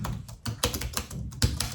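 Fast typing on a computer keyboard, close and crisp, with irregular bursts of key clicks and short pauses across the stretch.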